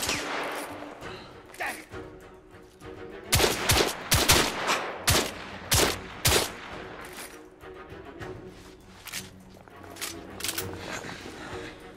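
Gunfire from a weapon's secondary fire mode in The Order 1886: a series of sharp, loud shots in uneven bursts, some clustered and some spaced out, over a low background of game ambience.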